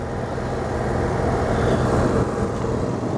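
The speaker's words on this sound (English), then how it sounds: "Generator's nice and quiet," A 2003 Fleetwood Flair 30H Class A motorhome idling with its engine and generator both running, a steady low mechanical hum and rumble that stays even and fairly loud throughout, with no voices.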